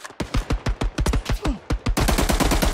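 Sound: gunfire from the video game Hell Let Loose

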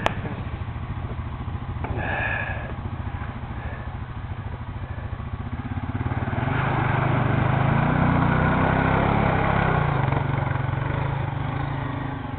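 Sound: quad bike engine powering through a tough dig

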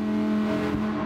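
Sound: car accelerating in video game Gran Turismo 7

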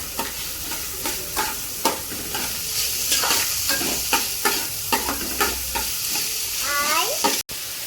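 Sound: onions roasting in a pan on medium flame

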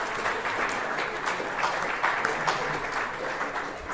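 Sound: applause for award recipient

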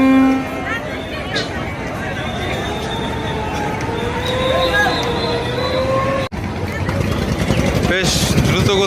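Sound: passenger launch engine in reverse gear

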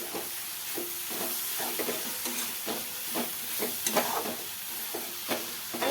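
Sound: spicy sukat (dried shrimp) chutney being sautéed in pan

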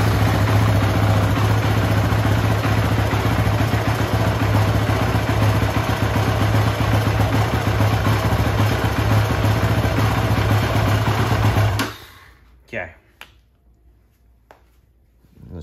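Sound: motorcycle engine idling in neutral

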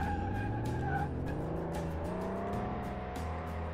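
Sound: minivan engine revving through gears in Car Mechanic Simulator 2018, video game

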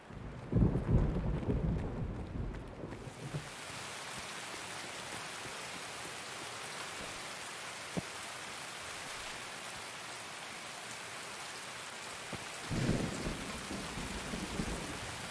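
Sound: rain in a video game

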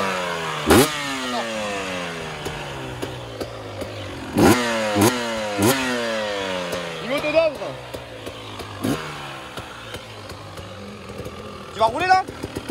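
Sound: motocross motorcycle riding on a dirt track

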